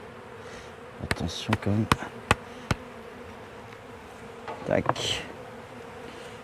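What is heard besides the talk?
honeybees buzzing on drone frame during hive inspection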